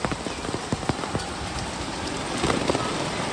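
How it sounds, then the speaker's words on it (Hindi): Heavy rain falling, dense and steady hiss with scattered sharp drop impacts, fairly loud and close, no talk. "अचानक से इतनी ज़ोरदार बारिश"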